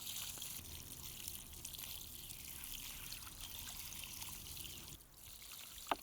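Water from a bucket pours and trickles onto a newly planted tree, a faint steady splashing stream lasting several seconds with a small thud near the end.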